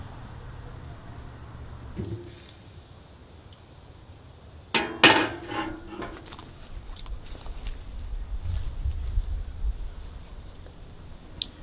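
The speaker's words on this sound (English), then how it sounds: "I'm going to pull the lid off and let you watch while I do it" A metal lid is pulled off a Pit Barrel Cooker smoking ribs: one sharp metallic clank and rattle near mid-clip, then light clatter over a quiet outdoor background with faint low hum.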